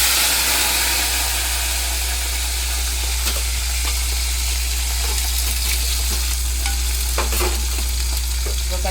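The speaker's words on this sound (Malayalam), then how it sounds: "അപ്പോൾ പച്ചമുളക് ഇട്ടെടുക്കട്ടോ" Green chillies fry in hot oil, giving a loud, continuous sizzle and crackle with scattered sharp pops. A low steady hum sits underneath and nobody speaks.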